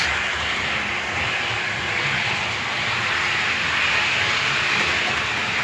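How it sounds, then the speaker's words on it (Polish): H0 scale BR218 diesel locomotive model running with sound, giving a steady, continuous hiss-like engine roar that holds at an even, fairly loud level throughout with no talk. "także piękny spalinowóz"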